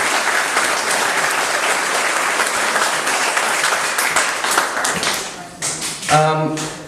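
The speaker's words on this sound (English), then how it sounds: "let's give Frank a round of applause here" A crowd at a historical symposium in Inverness County applauds Frank for his music, with steady, even clapping that holds for most of the clip before breaking up into scattered claps as a voice begins to speak at the end.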